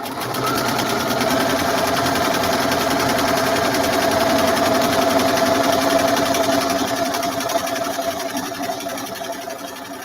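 A sewing machine stitching a 1/4 inch seam with backstitching, a steady fast mechanical whir and needle chatter running close and loud throughout, slightly easing near the end.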